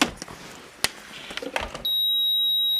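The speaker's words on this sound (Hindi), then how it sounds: "एक बीप भी बज गई, जो इसके ऑन होने की बीप होती है" An induction cooker under repair gives a single sustained electronic power-on beep near the end, after a few scattered clicks and handling knocks.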